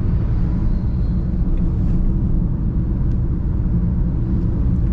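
A car on the road, heard from inside as a loud, steady low engine and road rumble, with no distinct gear change standing out.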